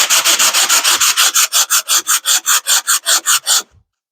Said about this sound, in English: sanding that off to get a smooth surface